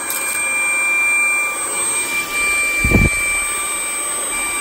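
A Tineco cordless vacuum cleaner runs on its max power setting over carpet, giving a loud, steady, close whooshing roar with a thin high whine and one brief thump partway through.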